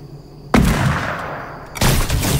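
Gunfire in the video game Fortnite: two loud, sharp bursts of shots, the first about half a second in and the second near the end, with a sustained roar between them.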